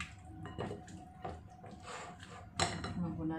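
Salted dinakdakan ingredients get mixed in a bowl, faint clinks and scrapes of a utensil against the dish with soft wet squishing, a few louder knocks near the end.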